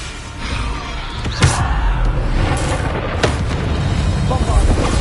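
The Bombarda blasting spell in Hogwarts Legacy on PS5, a sharp booming burst among other combat impacts and slams, loud and close, with a voice speaking over the fight.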